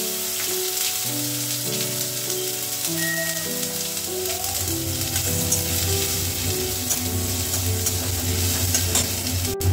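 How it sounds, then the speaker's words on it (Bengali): Onion and tomato fry with black cumin in a pan, giving a steady close sizzle with spoon-stirring scrapes, while music plays in the background. "এবার মশলাটাকে কিন্তু ভালো করে আমি ভেজে নেব।"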